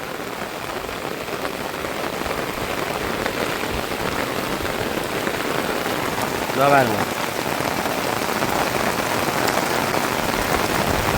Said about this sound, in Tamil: பருவகாலம் மாற்றத்தால பாருங்க என்ன மழை பெய்யுதுண்டு